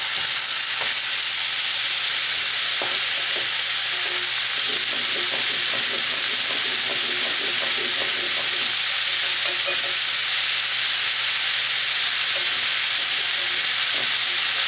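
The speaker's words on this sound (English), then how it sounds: "this is just sauteing in a little bit of olive oil" Food sautés in a little olive oil in a pan, a steady close sizzle with a cluster of light stirring clicks and scrapes through the middle, and no one talking.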